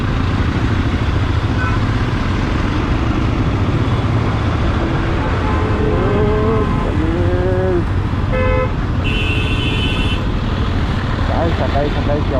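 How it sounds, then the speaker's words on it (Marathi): Dense morning traffic on the road near Panvel, heard from a moving motorcycle: a constant loud roar of engines and wind, with several short horn toots and a brief higher beep partway through, and voices in the background. "सकाळी सकाळी केवढ्या गाड्या."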